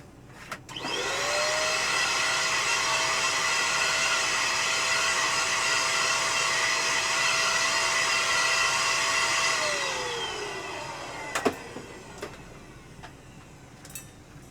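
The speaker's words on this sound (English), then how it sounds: "And then I'll take handy dandy blower." Air blower cleaning dust from a PS5 console, a loud whining rush that starts abruptly, holds steady for about nine seconds, then winds down, followed by a few small clicks and knocks.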